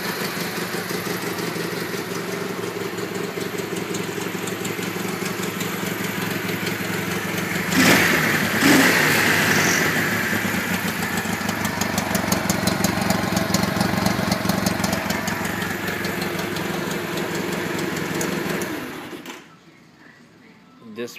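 A 1962 Honda Dream 250 CA72 motorcycle engine runs steadily at idle with a dense, even mechanical patter, loud and close, then cuts out abruptly near the end, leaving near silence.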